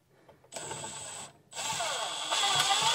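A cordless drill drives number 8 deck screws into a wall mount for a Milwaukee circular saw in two close, whirring bursts, the second rising in pitch and strain as the screw seats.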